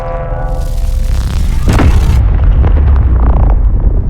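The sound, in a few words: railgun firing in a video game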